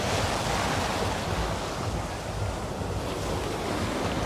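Ocean waves breaking on Baga beach in Goa, a steady loud roar of surf with wind buffeting the microphone throughout, no voices.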